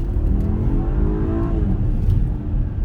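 A 2021 BMW X3 sDrive30i pulls hard in Sport mode, its engine note rising steadily over a broad low rumble, loud and continuous from inside the cabin with no talk.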